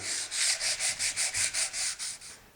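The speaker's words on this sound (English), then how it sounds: "when you're finished sanding, you want to make sure that the wood itself is really clean" Rhythmic back-and-forth sandpaper strokes on wood, about ten even rasping passes in a steady rhythm, close and fairly loud with no talking.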